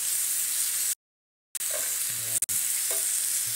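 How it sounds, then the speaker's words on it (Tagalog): Pork belly frying in a pan, a dense close sizzle broken by a brief silence and a couple of short clatters, with faint stirring under it. "Kailangan medyo lulutuin yan. Medyo papupulahin mo yan."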